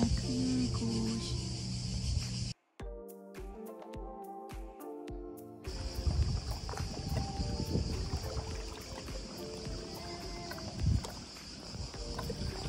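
A small motorboat engine drones steadily on the water near Rab island in Croatia, broken by a short stretch of music and then resuming with wind and water noise, with no talking.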